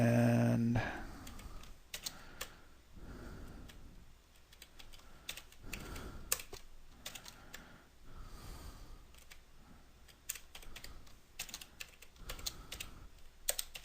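Someone types on a computer keyboard, producing irregular bursts of soft key clicks, close and moderately quiet, over a faint background hiss with no talking.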